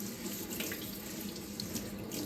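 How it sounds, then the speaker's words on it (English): Water running steadily from a tap into a sink to wash a lithograph stone, a soft continuous hiss and splash close by, faint and alone. "First thing I'm gonna do is wash the surface of the stone."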